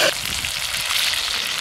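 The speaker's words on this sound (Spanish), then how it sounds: "Ahí está, ya está friéndose" Chicken wings frying in hot oil for a Peruvian-style acevichado dish, a dense, loud, continuous crackling sizzle with no talking.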